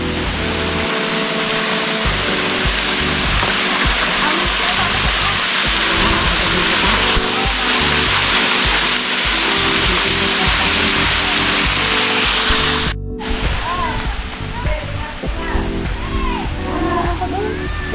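Atot Falls on the Labi River in Bongabon, Nueva Ecija, gives a loud, steady roar of rushing water filling the whole scene, with voices speaking over it near the end.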